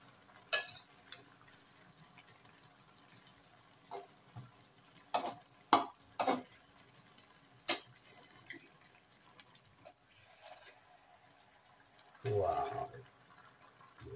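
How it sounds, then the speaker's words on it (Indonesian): Faint, intermittent scrapes and knocks of tilapia being stirred in yellow spice paste, with a few sharp clicks and a louder, rougher burst of stirring near the end. "Kita aduk sampai rata."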